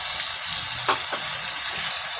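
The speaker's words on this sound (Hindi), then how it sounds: "मसाले को 1 से 2 मिनट तक भूनते।" Turmeric, crushed red chilli and salt with a splash of water fry steadily in a pan for aloo gobhi matar sabzi, a constant loud sizzle with a few brief stirring scrapes.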